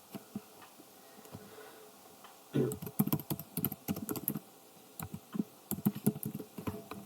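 Keys clatter on a computer keyboard while someone plays the DOS version of SimCity, coming in quick irregular bursts of clicks with short pauses, close and fairly quiet.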